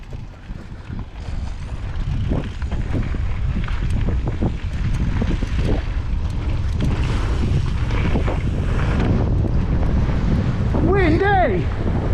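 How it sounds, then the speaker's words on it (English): Strong headwind buffets the microphone outdoors, a constant loud low roar with gusting rumble throughout, a brief voice cutting in near the end. "Windy!"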